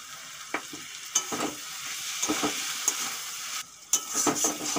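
Cabbage with prawns, very hot thin green chillies, a little sugar and fried spice mix sizzles in a pan, a continuous close frying hiss broken by scrapes and taps of a stirring spoon.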